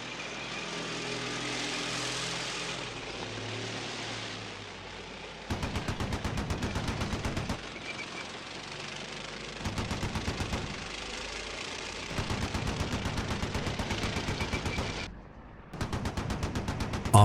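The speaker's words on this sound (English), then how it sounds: "After a machine gun attack" Machine gun fire from a Mastiff armored vehicle in combat at Chasiv Yar, Donetsk region: several long, rapid automatic bursts, loud and sustained, broken by short gaps over a steady engine rumble.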